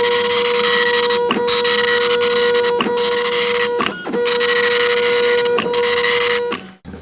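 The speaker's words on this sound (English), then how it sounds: "Is that a printer? Hey, the Dot Matrix printer." Dot matrix printer printing alone in a steady, loud, buzzy rasp, broken by several short pauses and line-feed clicks before it stops at the end.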